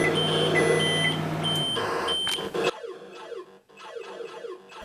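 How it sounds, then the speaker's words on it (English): Electronic beeps from the Asteroids arcade video game, the extra life signal resembling a microwave oven's done chime, heard as repeated tones that give way to a chirping sequence of descending bleeps, fairly loud and with no voices. "the sound that is you getting the extra life sounds a lot like your microwave telling you your popcorn is ready"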